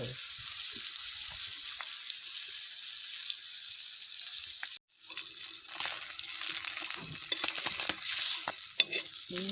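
Small fish pan-roast in a little oil over a wood-fired village chulha, a thin steady hiss with faint crackles, broken by a brief silent gap and then light scraping and tapping of a utensil.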